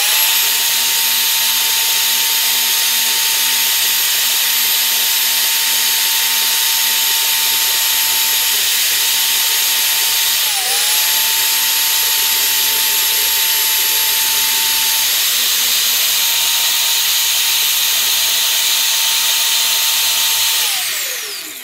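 A power drill spins a cleaning pad against an LS engine crank part wet with brake cleaner, a loud steady whine held for about twenty seconds, dipping briefly under load near the middle before winding down at the end.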